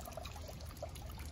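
Water pours steadily into a newly built DIY garden pond lined with flagstone edges, a continuous soft trickling and splashing that holds at an even level throughout.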